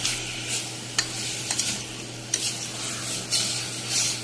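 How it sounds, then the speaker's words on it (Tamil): Mutton is stirred into fried masala in a pot, with a steady sizzle and several sharp scrapes and clinks of a spoon against the metal, close and clear with no talking. "சேர்த்துட்டு இதை அப்படியே லைட்டாக கிண்டி விட்டுக்கோங்க."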